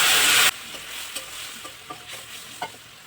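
Turmeric and chilli powder masala frying in oil bursts into a loud, hissing sizzle as a little water hits the hot pan for a drumstick, potato and vegetable curry. It quickly settles to a quieter fry with a few stirring scrapes.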